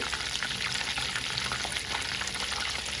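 A bay leaf crackles and sizzles in hot melted butter for a butter chicken tempering, a steady close-up frying hiss with small pops throughout.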